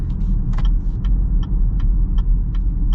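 A 2024 Chevy Equinox Premier on the road, heard from inside as a steady low rumble of engine and tire noise with faint periodic ticking, smooth and continuous, no one talking.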